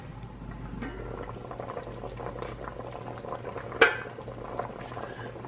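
Pot of coconut milk and corn simmering steadily for a Jamaican vegetable rundown, a continuous low bubbling with one sharp clink of a lid or utensil partway through.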